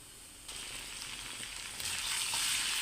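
Chopped tomato, red radish and potato sauté in hot spiced oil, a continuous close sizzle that swells louder after the first half second and again toward the end, with no voices.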